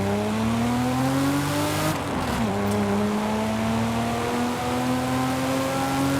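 A 1973 Nissan Skyline H/T 2000 GTR engine holds a steady loud drone, dipping briefly as it shifts or eases off before climbing again, with no voices.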